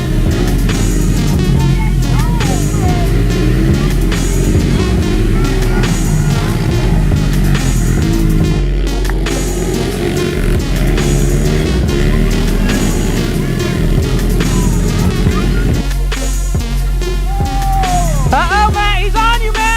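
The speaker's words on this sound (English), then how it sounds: "looks like we got a race. It's gonna be all pit bikes" Several pit bike engines racing on a track, a dense snarling roar with revs rising and falling as the bikes pass, loud and close throughout, with a brief lull near the middle.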